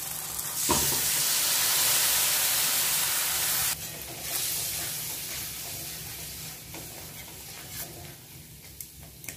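Ground spice paste and sweetened water hit a hot oiled pan for a chicken and green jackfruit curry, setting off a loud, hissing sizzle that fades to a softer bubbling fry with occasional stirring.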